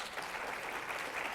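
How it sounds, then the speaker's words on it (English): Brief burst of audience applause at a keynote event, a dense, steady patter of clapping with no speech over it. "A round of applause if you have."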